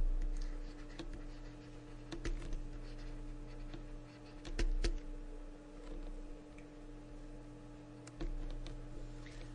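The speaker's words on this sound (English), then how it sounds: "And here we have to write the name of the fruit." Fruit names are written on a bar graph for a maths lesson, with soft pen strokes and scattered taps and ticks over a low steady hum.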